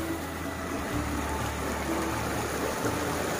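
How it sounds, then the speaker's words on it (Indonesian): A small, very clear mountain spring stream runs beside a rural path in Central Java, producing a steady, soft broadband rush of flowing water with no talk. "Di sebelah saya juga ada sungai kecil ya teman-teman ini sangat jernih dan ini asli mata air pegunungan"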